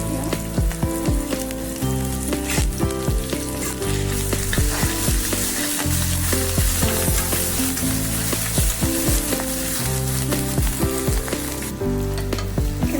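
Ginger and garlic paste fry in hot oil in a pan alongside fish head and onions for muri ghonto, giving a steady close sizzle with occasional stirring clinks and pops throughout.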